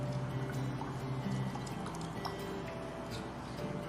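Water is poured into a bowl of sugar to dissolve it for sweet tamale dough, a soft, steady liquid pour with faint drips, heard close and alone in a quiet kitchen.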